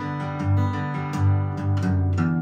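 Acoustic guitar playing a simple fingerstyle picking pattern on the sixth string, with clear plucked bass notes and sustained ringing strings in a steady, close rhythm.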